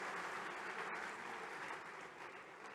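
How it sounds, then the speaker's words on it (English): Audience applause at a closing ceremony, a steady wash of clapping from a large crowd, sustained and even without any voices over it. "a big round of applause to sir for sparing his time to be in our midst"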